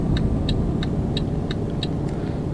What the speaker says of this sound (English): Just a nice relaxing sound of a truck engine as I quietly drive through Europe